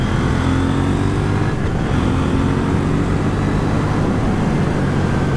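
A KTM Duke 790 motorcycle is ridden on the road, its engine a loud, steady drone mixed with wind rush that holds without a break for the whole stretch, with no voices over it.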